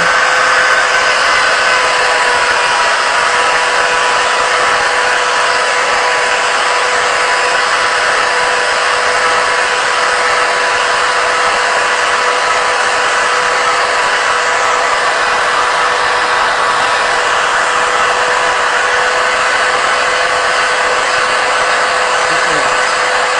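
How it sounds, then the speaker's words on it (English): A router cuts a thread along a wooden dowel held in a threading jig. It makes a loud, continuous high-pitched whine with a steady tone and rough cutting noise underneath, heard close up and uninterrupted. "then I'm going to turn on this router"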